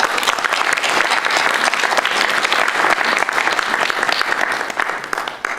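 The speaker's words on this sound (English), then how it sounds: "May I have a round of applause for him being here?" A gathered audience gives a sustained round of applause to welcome a guest at a morning program, many hands clapping loudly and evenly for the whole stretch before tapering slightly at the end.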